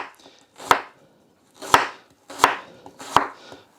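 A knife finely slices a humble onion on a board for Chinese takeout-style beef and onion, four crisp, close chopping strokes spaced in an uneven rhythm with quiet pauses between.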